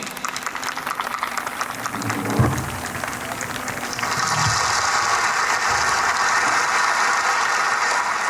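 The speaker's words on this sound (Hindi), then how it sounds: "तो हम सब अपनी तालियों के साथ दीपक जी का स्वागत करेंगे।" An audience at a school annual function welcomes a guest with applause. The clapping runs as a continuous dense crackle and grows fuller and louder halfway through, with no voices over it.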